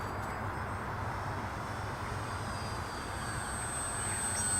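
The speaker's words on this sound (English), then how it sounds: "the plane seems to be flying okay" A ParkZone Conscendo Advanced RC plane flying on a bright day, its motor a steady, faint whine drifting above a broad wash of outdoor wind and ambient noise, heard from a distance with no talk.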